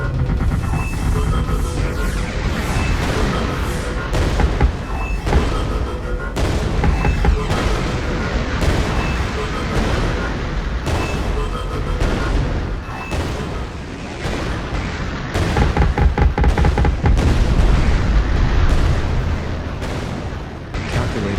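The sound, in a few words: sentry weapons self-destructing, explosion in the video game Artificial Extinction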